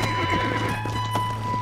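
Rapid hoofbeats of a galloping horse in Red Dead Redemption over a steady droning game soundtrack, continuous and fairly loud.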